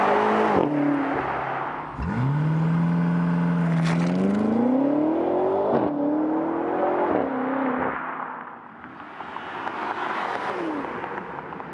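A BMW M SUV engine under agile driving, with a loud, close drone that rises and falls in pitch as the car accelerates and shifts gears, heard alone without talk.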